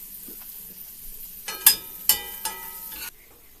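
Mushrooms sautéing in a cooling pan: a quiet start, then a few sharp clinks and bursts of sizzle as they are stirred, dying back to near silence.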